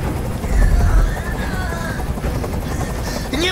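Inside the video game Detroit: Become Human, a helicopter's loud thumping rotor drones continuously nearby, with heavy low rumble and faint wailing tones above it.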